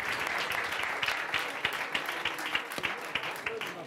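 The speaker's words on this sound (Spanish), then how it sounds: "Fuerte el aplauso para Pedro Acosta." Applause from an audience at a motor awards ceremony in Jerez, honoring Pedro Acosta, with individual claps audible within a moderate crowd clapping, a voice briefly heard underneath.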